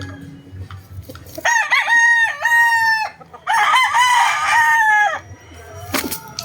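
Sweater gamefowl rooster crowing loudly and close, two long drawn-out crows in succession with faint background noise between them.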